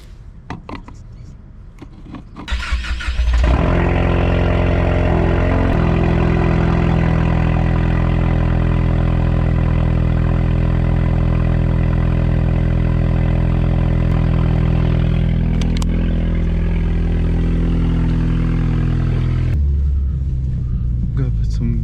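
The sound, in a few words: Ford Mustang EcoBoost engine cold start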